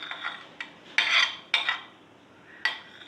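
Chickpeas, potato and onion tip into a bowl, giving a few short clattering knocks and rattles of food and utensil against the dish, spaced irregularly over a quiet kitchen background.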